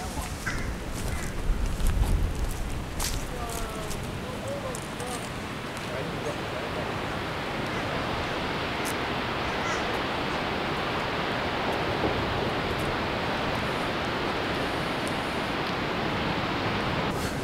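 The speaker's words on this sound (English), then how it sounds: "So this is Australia's highest single drop waterfall, something like 268 metres." Australia's highest single-drop waterfall, about 268 metres tall, heard from a lookout as a steady, broadband rushing roar that fills the scene evenly from start to finish, with faint outdoor sounds and occasional light rustles over it.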